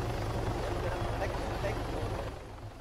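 A helicopter in the military game ARMA 3 thrums with a steady rotor chop and engine drone, fairly close, fading slightly at the end while players talk over it.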